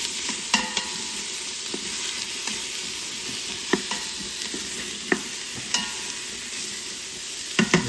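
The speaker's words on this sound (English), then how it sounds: "While our onions are sauteing there" Onions sauté in an Instant Pot, a continuous bright sizzle lasting several seconds, punctuated by occasional light taps and scrapes of a utensil against the inner pot.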